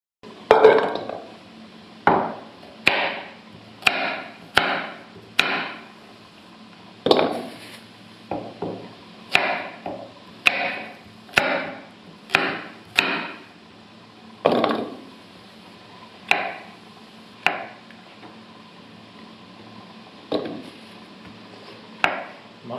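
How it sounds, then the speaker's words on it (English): A knife chops carrots and other vegetables on a board, with crisp close thuds falling in an uneven, steady series of about two dozen strokes, some quick pairs and short gaps. "I'm just going to chop up some vegetables, carrots, and whatnot"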